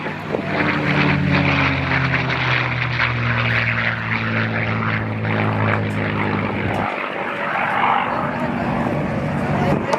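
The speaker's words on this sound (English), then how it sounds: "I'm going to be quiet and let you listen to the sound of the Merlin magic" A Merlin-engined propeller warplane roars past on a low photo pass at the New Orleans Airshow, a loud, steady engine drone with rising and falling harmonic tones that cuts off sharply near the end, with faint crowd noise beneath.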